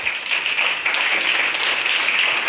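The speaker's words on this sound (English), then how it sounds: "a well-deserved round of applause for the fire department, our first responders" An audience at a Ward 7 ResiStat community meeting gives the fire department a round of applause, with dense, even clapping sustained throughout at moderate loudness.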